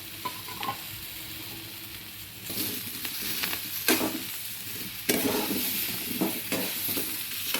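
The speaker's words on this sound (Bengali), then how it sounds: "আমি আবার নাড়তে থাকবো" Pumpkin curry with ground cumin and coriander sizzles in a pan as a spatula stirs it, a few scraping strokes over a steady fry. The stirring grows louder and busier partway through, and no one speaks.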